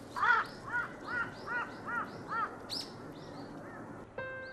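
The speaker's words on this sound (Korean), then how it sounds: "괜히 옆에 와서 시비를 걸어보는 까마귀." A crow near a flock of eagles wintering in Korea gives a series of about seven regular, fairly close caws. A short electronic tone follows at the end.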